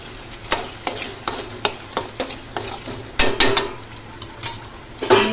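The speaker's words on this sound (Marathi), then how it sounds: "चांगला मिक्स करून घेऊया।" A spoon stirs paneer masala in a pan with a steady rhythm of sharp scraping clinks against the metal, over a soft background sizzle, close and fairly quiet.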